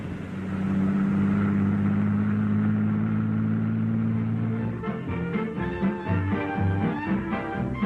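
A vintage bus engine hums steadily nearby, then its tone shifts and wavers as the vehicle pulls in and slows, in a 1940s small-town setting.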